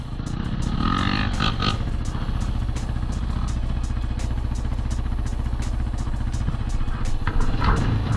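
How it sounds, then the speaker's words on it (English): A Kawasaki KLX140 dirt bike engine runs while ridden, a loud, close, continuous buzzing drone that rises and falls slightly with the throttle, with rattling clatter throughout. "First time riding on a dirt bike, so he's learning."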